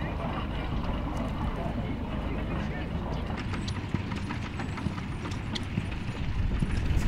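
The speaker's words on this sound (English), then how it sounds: "This is a magnificent Percheron heavy horse, pulling a lovely hay wagon." A Percheron heavy horse pulls a hay wagon at a vintage farming weekend, its hooves clip-clopping steadily with wheel and harness rattles over a constant outdoor crowd murmur.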